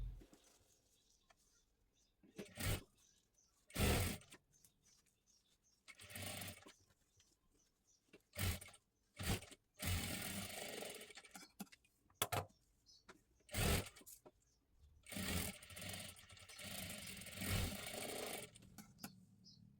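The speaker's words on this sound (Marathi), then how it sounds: "इथे मी डबल शिलाई देऊन घेतली" A sewing machine stitches a double seam on a blouse in short bursts, fast whirring runs separated by pauses, with faint bird cooing in the background.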